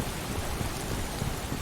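Dense rain weather effect in the VR game Boiling Steel, a constant hissing patter filling the whole moment, steady and fairly loud.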